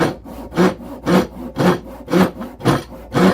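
A Japanese crosscut saw cuts through wood in eight steady, evenly spaced strokes about every half second, each a close, rasping push-pull sweep with no voices.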